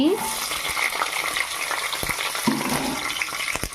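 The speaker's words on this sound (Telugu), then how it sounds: "ఇవి కూడా బాగా ఫ్రై అవ్వాలి" Green chilies frying in oil in a pan for mango pulihora, a dense sizzle with occasional stirring clinks and scrapes, a brief watery rush near the start and middle, and faint background voice.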